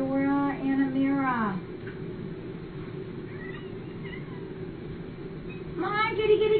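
Cats meow at a morning feeding, with a few clear meows at the start and again at the end, loud and close, around a stretch of quieter background.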